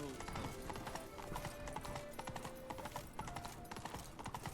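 Horse hooves clip-clop steadily on a street in The Witcher 3 (W3EE), a busy run of close, crisp hoofbeats over low game ambience with a faint whinny.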